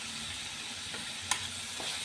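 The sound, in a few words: stirring spiced masala with soaked cashews in a pan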